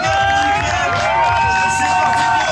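Loud crowd cheering and shouting at an amateur BMX street contest, a steady continuous roar of voices filling the whole stretch with whistles rising above it.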